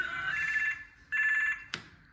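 A telephone rings in two electronic trill bursts with a pause between them, moderately loud in a quiet indoor room, followed by a brief clatter.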